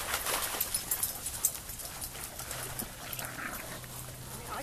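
A trained young female dog whimpers and whines in short, soft bursts close by, with faint rustling and clattering noise underneath and no speech.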